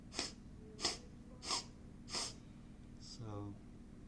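Four sharp nasal sniffs in an even rhythm make up one inhale during meditation breathing, each one close and distinct, followed by a faint voiced sound.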